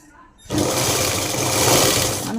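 A sewing machine stitches piping onto a blouse using a one-side presser foot, its loud steady motor whir starting abruptly after a brief quiet moment and running continuously to the end.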